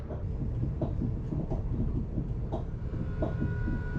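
An ICNG InterCity New Generation train runs between Rotterdam and Lelystad, heard from inside the carriage as a steady low rumble with faint periodic rail clicks, no voices.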